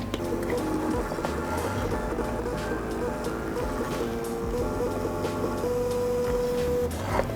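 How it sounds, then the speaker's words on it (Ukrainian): A Magneti Marelli battery tester prints a receipt, giving a steady mechanical whirr and buzz from its small printer. The sound runs continuously for several seconds, with shifting tonal hums and no speech. "при бажанні можна цю інформацію роздрукувати в чек"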